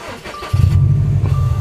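A Subaru STI race car fires up via push-button start, a brief crank followed by a steady, loud idle settling in close by.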